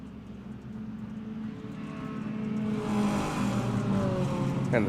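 Stock race cars of an Extreme Outlaw Stock Tour event accelerate on a track, engines swelling from a distant drone into a louder, rising roar as the pack gets going, with no talk over it.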